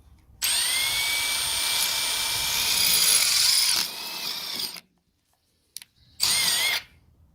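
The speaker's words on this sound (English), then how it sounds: "you drill your holes straight through your metal bracket" A power drill whines loudly for several seconds, stops, then gives a short final burst after a brief pause, grinding close up as it drills through a metal bracket.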